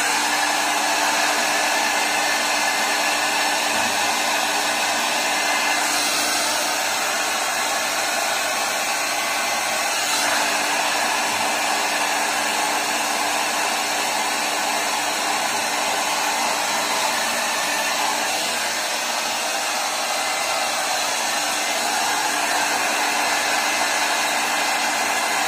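A hair dryer blows steadily while hair is dried and shaped, a loud, constant close-up whoosh with a faint tonal whine, running without a break and with no talk.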